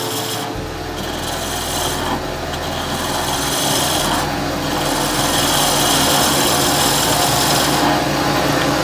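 Freshly sharpened lathe tool cutting into spinning wood while turning a shaving brush, a continuous loud rasping scrape that holds steady throughout.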